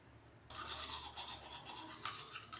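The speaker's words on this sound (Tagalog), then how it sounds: "mag-toothbrush ako guys ha" Teeth are brushed with a toothbrush, a steady close scrubbing hiss that starts abruptly after a brief quiet moment and continues with rhythmic back-and-forth strokes.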